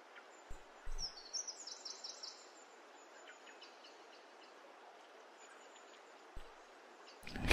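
Faint, scattered bird chirps over a quiet forest hiss, with a few soft knocks and thumps; sparse calls rather than a full chorus.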